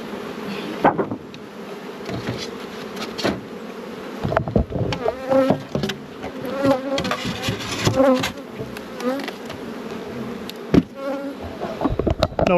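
Honey bees buzz around a nuc hive in summer, a dense, continuous hum with individual bees swelling louder as they pass close, mixed with occasional knocks and clicks from handling the hive.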